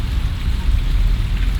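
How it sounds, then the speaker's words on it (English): Water of Cheonggyecheon stream in Seoul rushes and splashes steadily, a dense close wash of flowing water with no voices over it. "It's so relaxing listening to this water."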